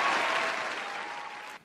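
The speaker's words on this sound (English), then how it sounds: "Let me hit the round of applause." A short canned applause sound effect, a burst of crowd clapping that fades slightly before cutting off abruptly.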